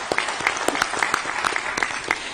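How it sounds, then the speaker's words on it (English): A crowd applauds steadily, with many hands clapping at close range for a couple of seconds. "Let's just honor that with a hand clap."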